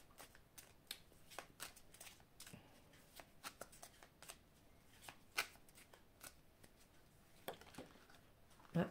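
Oracle cards are shuffled by hand, producing soft, quick riffling and flicking sounds in irregular bursts, close and quiet, with occasional louder slaps of the deck.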